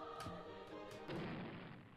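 A muffled bomb explosion in the game Doors booms with a low thud and crash, followed by rumbling debris, loud and close.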